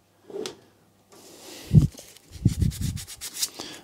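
Wet and dry abrasive paper rubs against a bicycle pivot bearing part in short scraping bursts, a few strokes in quick succession, close and moderately loud with a brief pause between them.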